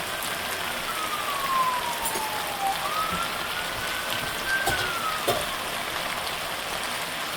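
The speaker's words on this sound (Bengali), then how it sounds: "এখন আমি ঝোলের পানিটা দিয়ে দিব।" Water poured into a frying curry of drumsticks and dal bori, a steady broadband hiss and sizzle that continues unbroken throughout, close and fairly loud, with no talk.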